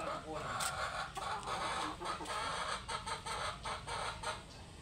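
A brooding hen in a small backyard gives repeated soft clucks and short calls at close range, with a voice talking faintly in the background.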